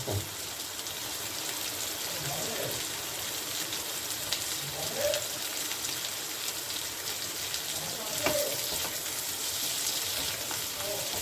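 Chopped onion frying in a pan, a steady soft sizzle throughout with a few faint scrapes and clinks, no talking.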